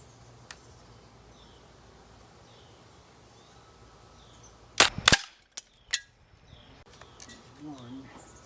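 Daisy air gun firing flat nose pellets, a few sharp cracking shots with pellet impacts: one sharp snap near the middle followed by several quick cracks and a couple of later pops against a quiet outdoor background.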